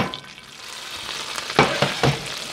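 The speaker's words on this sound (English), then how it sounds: "we're gonna saute the onion in the butter." Onion sizzling as it sautés in melted butter in a pan, a steady frying hiss with a few louder stirring crackles near the end, close and alone.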